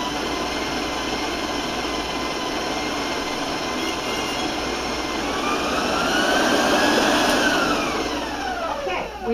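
An electric stand mixer with a paddle beating chocolate batter for mini chocolate mint cupcakes, a loud steady motor whir running throughout that swells and rises slightly in pitch near the end.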